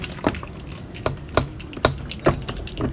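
Keys jangle and clink in a series of sharp metallic bursts while a padlock is being locked, close and fairly loud.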